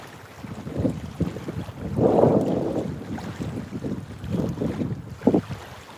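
Cold wind gusts around a fishing boat on the Cumberland River, producing rushing, buffeting microphone noise that swells and fades in uneven surges, with a few soft knocks.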